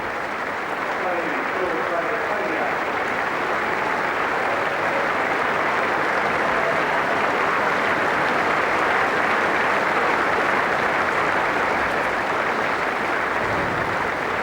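A packed cricket ground crowd at the fifth day of the 1995 Australia v England fourth Test applauds bowler Phillip DeFreitas, steady dense clapping sustained throughout, with a commentator talking over it.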